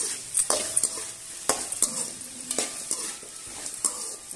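Green chilli, tamarind, onion and ginger stirred in a pan for chutney, with a steady close sizzle of frying and repeated scraping strokes of a spoon against the pan.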